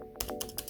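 Keys tapped on a MacBook Air laptop keyboard, about four crisp, close clicks in under a second at an even pace, with nothing else heard.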